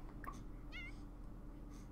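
A cat gives a single short, quiet meow in a video game, faint over a low steady background hum.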